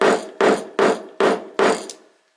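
Five evenly spaced, solid hammer blows drive a hand hole punch through material resting on a cutting mat while fitting press studs, each strike ringing briefly before the last one fades to silence.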